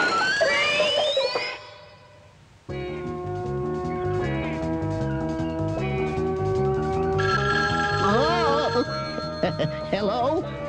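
Cartoon telephone ringing with a bright, musical warble over an animated score about a cat, continuous and fairly loud with melodic swells and a brief dip early on.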